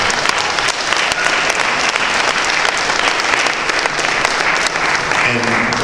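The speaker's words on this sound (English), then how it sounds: "I just want to give Jessie Vargas a big round of applause" Loud, dense crowd applause and cheering for boxer Jessie Vargas after his fight with Manny Pacquiao, filling the whole stretch, with a voice emerging near the end.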